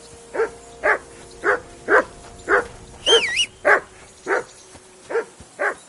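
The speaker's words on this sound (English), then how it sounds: "Whistle at that mutt of yours to stop barking!" A single dog barks in a steady rhythm, about ten sharp close barks evenly spaced, with a whistled tone cutting in partway through.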